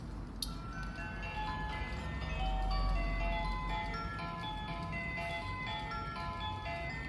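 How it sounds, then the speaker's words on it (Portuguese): German melody chiming from a handcrafted Kuckulino cuckoo weather house clock, a clear music-box tune of bright plucked notes that opens with a sharp click and plays alone at moderate volume. "Ele também toca 12 melodias alemãs, em hora é uma melodia diferente."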